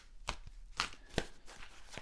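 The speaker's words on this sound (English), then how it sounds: "So I'm going to shuffle your cards" Tarot cards being shuffled by hand, a few sharp riffling snaps and soft slaps spaced unevenly over a quiet background, close and crisp, with no talking.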